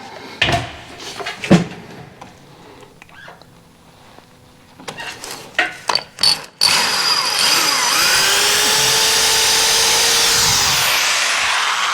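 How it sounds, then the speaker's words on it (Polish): A few scattered knocks and handling clatters come first. Then a power drill starts boring a hole into a wall for mounting a radiator and runs as a loud, steady whine until the end. "Wiercę sobie dziurę."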